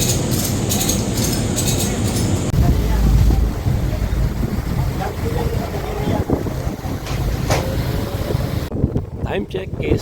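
A passenger motorboat bound for Sibuyan Island, Romblon, drones and rumbles under heavy wind buffeting, with voices talking over the noise and a few clattering knocks.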